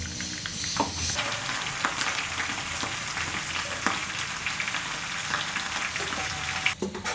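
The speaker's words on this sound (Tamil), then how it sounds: "மீதி இருக்க மீனெல்லாம் இதே மாதிரி பொரிச்சு எடுத்துக்கலாம்" Karimeen fish frying in hot oil for a banana-leaf pollichathu dish, with a dense, steady sizzle and crackle that holds throughout, plus occasional louder pops and spits.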